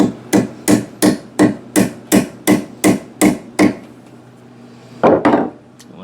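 Steady hammer blows drive a white oak axe handle, about ten sharp, evenly spaced strikes close up, then a short pause before two heavier, louder hits.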